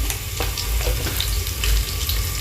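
Garlic sizzles and fries in hot oil in a pan as asafoetida is tipped in while cooking palak dal dhokli, a close, steady crackling hiss with brief stirring and water-like splashes and no talking.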